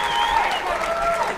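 Crowd at a PFC 18 mixed martial arts fight applauding and cheering steadily, a dense continuous wash of clapping and voices with whistles rising above it throughout.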